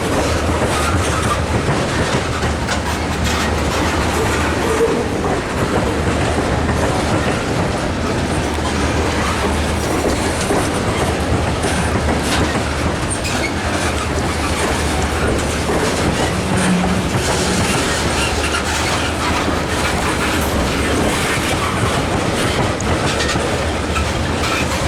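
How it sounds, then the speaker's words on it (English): A long Wheeling and Lake Erie tank train hauled by two SD40T-2 locomotives crosses the diamond at Brewster, its many tank cars rolling past loud and near with a steady rumble and rhythmic clickety-clack of wheels on rail joints. "Pretty long train, whatever it is. A lot of tankers."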